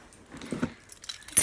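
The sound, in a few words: keys jangling on a keychain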